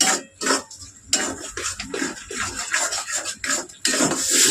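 Spice masala scraped and stirred in a pan with a spatula while frying for an egg prawn malai curry, rhythmic rubbing and clinking strokes close up, loud and continuous with brief pauses.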